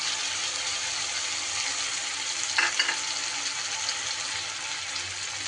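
Spice masala fries over chopped tomatoes in a pan with a continuous sizzling hiss; a brief scrape of stirring breaks through midway.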